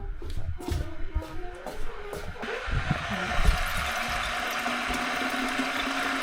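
Water poured from a container onto a potted mushroom plant indoors, a steady splashing trickle that starts after a few seconds of small handling noises and runs continuously to the end, moderately close.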